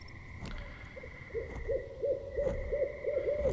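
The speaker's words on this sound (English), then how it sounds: "Lots of birds around here." Owls hoot in a wooded area of the game Citadel: Forged with Fire, a faint, distant series of soft hoots in a quickening rhythm over a low ambient bed, with no talking.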